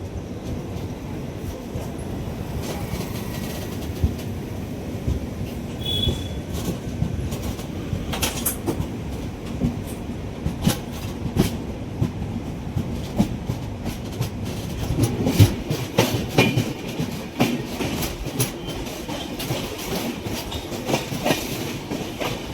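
The Konkan Kanya Express rumbles along steadily, wheels clacking in an uneven rhythm with occasional squeaks, heard close up throughout the long stretch.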